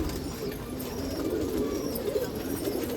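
Pigeons at a pigeon festival in Nashik give soft, continuous cooing, faint and partly buried under a broad wash of background noise.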